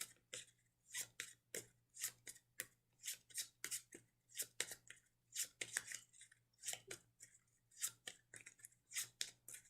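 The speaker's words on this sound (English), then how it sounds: "I'm going to shuffle this turn deck first." A deck of turn cards for the Tiny Epic Defenders board game is shuffled by hand in a quiet room, a rapid run of about two dozen crisp riffling bursts, close and fairly loud, with no talking.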